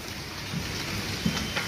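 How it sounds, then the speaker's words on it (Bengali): Light drizzle falls on a pond's surface outdoors at the start of the rainy season, a steady soft hiss of drops with a couple of faint low taps, no one talking. "কি সুন্দর জলের উপরে বৃষ্টি পড়ছে"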